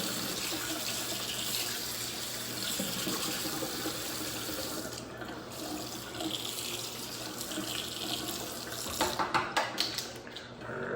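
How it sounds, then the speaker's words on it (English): Tap water runs steadily into a sink while a blender part is rinsed, a continuous close splashing hiss with brief clattering splashes near the end. "So let me just rinse this really quick."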